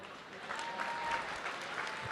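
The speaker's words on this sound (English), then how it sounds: "can we give a big round of applause for Casey Veach?" Applause from an audience at a live showcase event, a brief, fairly distant wash of clapping with no voices over it.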